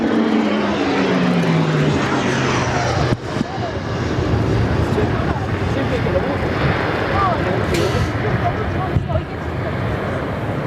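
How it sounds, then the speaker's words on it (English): Boeing P-8 Poseidon maritime patrol jet passing overhead at RAAF Base Williamtown, a loud continuous turbine roar with a falling pitch sweep early on and wind buffeting the microphone, while people talk over it. "P8 now over the top."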